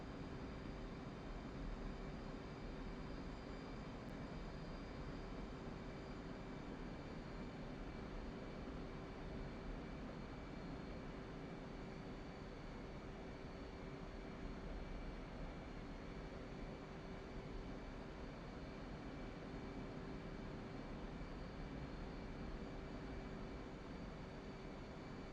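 A throttled-back aircraft engine drones steadily during a descent in a flight simulation, a constant even hum with a fixed tone, moderately faint and unbroken throughout, no voices.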